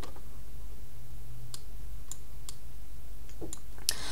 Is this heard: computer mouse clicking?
yes